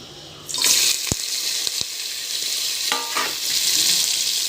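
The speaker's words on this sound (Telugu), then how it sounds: "వీటన్నిటిని నూనెలో వేపుకోవాలి." Wild vine, fenugreek leaves and tomatoes frying in oil, a close, loud hiss and sizzle with stirring knocks and a watery splash, no talking.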